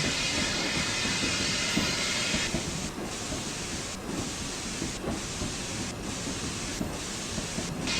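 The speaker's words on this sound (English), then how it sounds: "I love the creaking on these trains." Steady hiss and rumble of a Peppercorn K1 steam train in Train Simulator 2016, moving along with faint creaks and a rhythmic clatter, continuous and without talking.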